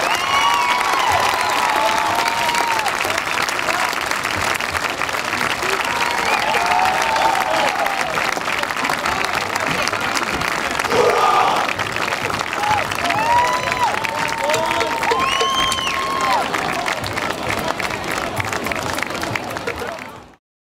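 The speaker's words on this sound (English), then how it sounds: "Big round of applause, please." A high school football awards crowd claps loudly for a retiring coach, mixed with whoops, cheers and crowd chatter, holding strong for about twenty seconds before cutting off abruptly.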